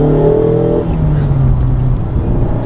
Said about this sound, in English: Just spun the tires there in 2nd gear in a Miata.